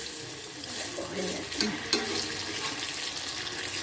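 Masoor dal fritters fry in oil with a soft, steady sizzle, broken by a couple of brief scraping knocks as they are turned over. The sound is quiet and fairly close, with no voices.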